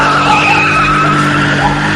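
A car reversing with its tyres skidding, producing a loud, continuous screech that runs the whole time at a steady level, with engine noise beneath it.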